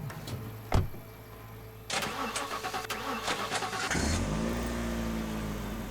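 Car engine in The Last Stand: Aftermath game, freshly repaired, cranks with a sharp click, then catches and settles into a steady running rumble after a brief whir, with no talk.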